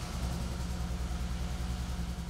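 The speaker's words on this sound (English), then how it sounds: "Start the engine and allow it to idle for 1 to 2 minutes." A Polaris RZR 900 side-by-side engine idles steadily after an oil and filter change, a low even putter with regular pulses, close and alone.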